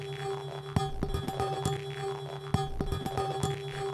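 A looped beat time-stretched in Ableton Live with the Texture warp mode at 135 BPM, sounding gritty and granular, with sharp percussive hits recurring in a steady rhythm over sustained tonal layers, loud and alone.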